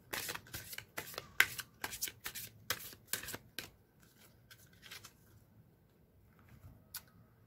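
Angel answer oracle cards are shuffled by hand, a run of crisp riffling bursts in quick succession, close and quiet, then softer sparse card flicks with no talking.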